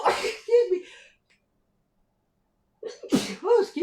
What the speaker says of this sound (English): I sneeze in 3s, in case you guys are wondering.